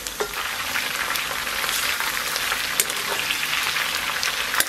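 Onions frying in hot rendered pork belly fat in a wok, a close, dense, steady sizzle with occasional sharper crackles and spits.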